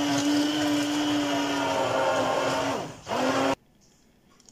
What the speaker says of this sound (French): maintenant je vais pouvoir mixer